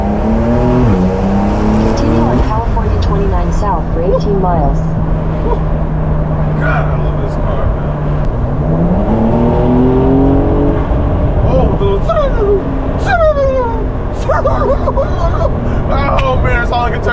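A Porsche 911 engine revs hard, its pitch sweeping up and down through repeated gear changes, loud and close, with voices talking over it.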